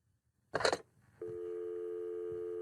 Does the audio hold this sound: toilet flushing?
no